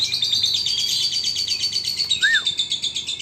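A high, shimmering bird song trills continuously at moderate distance, with one brief rising chirp near the end over light background noise.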